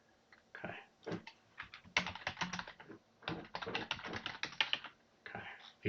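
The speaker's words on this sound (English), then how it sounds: "You hear the typing and it's off screen" Quiet, close typing on a computer keyboard, irregular bursts of rapid key clicks separated by short pauses, faint and alone with no talking.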